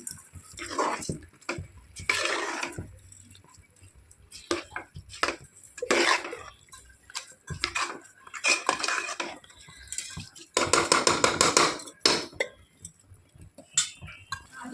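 A metal spoon scrapes and clanks in a pot while black-eyed peas and rice are stirred with masala, in irregular bursts of stirring separated by short pauses, close and clear.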